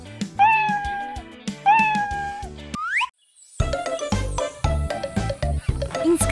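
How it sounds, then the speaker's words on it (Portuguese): A cat meows twice, clear and close. A springy cartoon boing follows, then bright, tinkly music. "e o gato mia."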